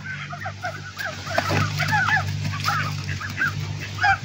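Geese on a farm with poultry and waterfowl honk repeatedly in a busy overlapping chorus, near and fairly clear, over a low steady background hum.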